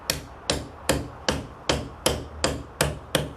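Eight evenly spaced, sharp hammer taps drive thin packing pieces into the gap at the head of a door frame, each a crisp close knock with a short decay, repeating in a steady rhythm.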